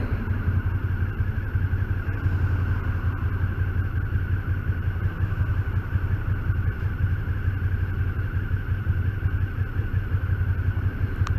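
A motorcycle is being ridden, its engine a steady low droning rumble heard close and loud throughout, mixed with constant wind buffeting and no talk.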